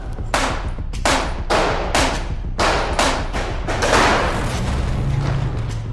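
Blank rounds crack out during soldiers' battle training, about ten sharp reports coming singly and in quick pairs at an uneven rhythm, loud and close with a rumble underneath.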